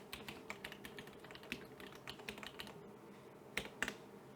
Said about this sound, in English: So we'll just type the address in here.